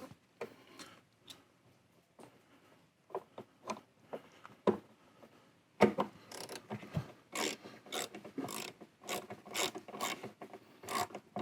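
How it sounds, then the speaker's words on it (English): Metal T20 screws being driven into a plastic speaker frame in a Mini Cooper, giving close, quiet ratcheting and rasping clicks in irregular bursts that grow denser and louder partway through. "It's just metal screws going into a plastic frame."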